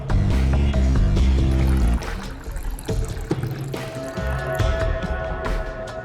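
Water is poured in a TV crime-drama scene: a wet pouring and filling sound runs under music and background noise for several seconds, with no one speaking.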